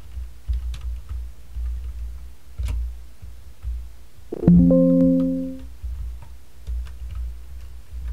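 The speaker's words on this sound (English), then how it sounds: "So after typing Bungoma, you click on the tab key." A computer keyboard during an ICT practical exam is tapped in sparse, irregular clicks, close and fairly crisp, with a short tonal beep or hum cutting in around the middle.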